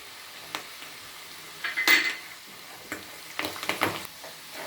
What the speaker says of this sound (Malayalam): ഇനി നമുക്ക് കരിയാപ്പില ഇടാം.